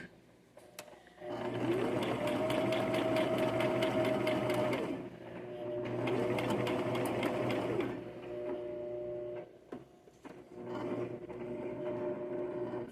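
A sewing machine stitches the side seam of a Simplicity S9603 garment in three steady whirring runs with a rapid mechanical patter, separated by brief stops and soft handling noises.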